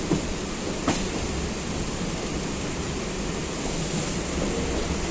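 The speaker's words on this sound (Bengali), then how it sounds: "এই যে ব্যারাকপুরে ঢুকছে, চলে এলাম ব্যারাকপুর।" A local train pulls into Barrackpore station with a loud, steady broadband rumble and rushing roar, a couple of brief sharp clanks near the start, sustained throughout without speech.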